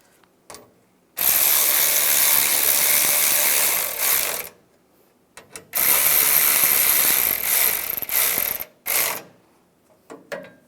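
A ratchet snugs down radiator support bolts on a 2007-2013 Chevrolet Silverado, giving loud close rapid clicking in several long bursts of a few seconds each, separated by brief pauses, with no talking.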